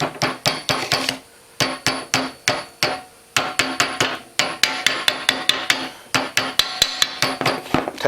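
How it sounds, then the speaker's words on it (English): Rapid bursts of metallic hammer taps driving a wheel bearing seal into a Honda Fourtrax 300 front wheel, quick rhythmic strikes in clusters with short pauses between, close and loud. "I usually just tap these in with a hammer."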